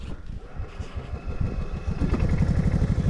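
Golf cart engine revving while stuck off-road with both wheels spinning, a steady mid-pitched motor drone with rapid rhythmic pulsing that grows louder toward the end, close by and alone.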